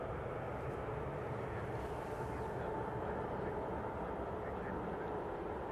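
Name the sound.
airplane taking off at Manchester Airport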